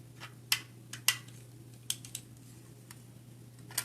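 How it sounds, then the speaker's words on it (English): Scissors snip through a pre-cut paper circle during card making, producing a handful of crisp, close, fairly quiet cuts spaced irregularly over a low steady hum. "that's why I'm like recutting the cut circle"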